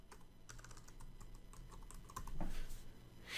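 Rapid clicking of keys on a computer keyboard, a quick stream of taps close by, ending with a slightly louder clack.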